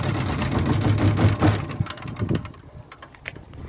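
A COVAX KDE7000T diesel generator being shut down: a loud, steady clattering engine drone runs, then weakens and winds down over a couple of seconds, leaving a faint rattling tail.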